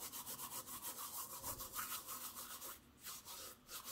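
Dried wild oregano rubbed between the hands, a close, steady dry rustling and crumbling with rhythmic brushing strokes throughout.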